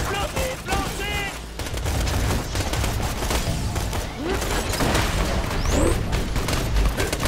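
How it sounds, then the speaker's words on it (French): A grenade launched and exploding in a Borderlands 2 firefight. Loud, dense booms and bursts of gunfire fill the whole stretch, with brief whistling projectile sweeps cutting through the chaotic battle noise. "Lancement de grenade!"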